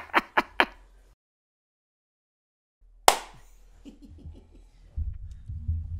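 Three crisp hand claps in quick succession, loud and close, followed by a pause, then a single sharp slap and some soft laughter and chatter.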